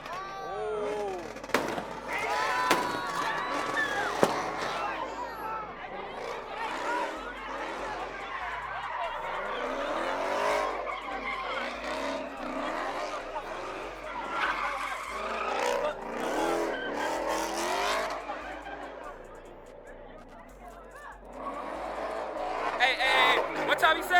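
Cars spin their wheels at a rowdy car meet, tires squealing and skidding over roaring engines in long stretches, with people shouting and talking throughout.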